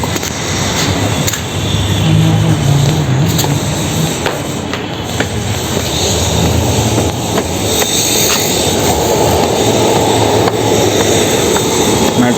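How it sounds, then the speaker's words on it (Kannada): A loud, continuous rumble and roar of a metro train passing close by, steady throughout with a high electrical whine on top. "ಹೋಗ್ತಾ ಇದೆ ಮೆಟ್ರೋ"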